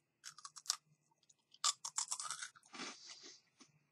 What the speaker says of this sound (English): This is very much a cracker. It's crunchy. It's very hard.